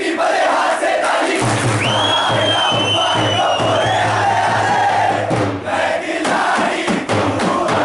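A large school or youth event audience roars, whoops and whistles loudly and continuously, with a sustained whistle rising over the crowd noise.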